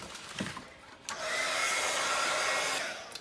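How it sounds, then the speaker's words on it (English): A hair dryer switches on and blows with a steady whooshing hum, close by, after a couple of faint knocks, then winds down. "I'm gonna get my dryer out."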